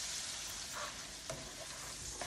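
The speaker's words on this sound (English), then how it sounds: "I've beaten the eggs, so it's time to add the eggs" Beaten eggs hit a hot pan in the making of an egg omelette alongside boniato, giving a soft, steady sizzle with a few faint stirring scrapes, quiet and close.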